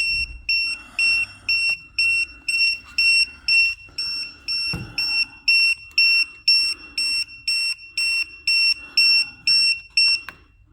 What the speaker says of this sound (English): it makes an alarm.